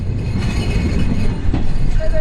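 A passenger train rumbles into a platform at Ishwardi Junction in Bangladesh, a steady loud low roar of wheels and carriages with a faint high squeal near the end.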